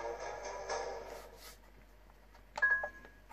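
An Xbox console, a Gears of War 4 edition, powers on with a faint, soft electronic startup tune of sustained tones lasting about a second and a half, followed a moment later by a brief brighter beep-like chime.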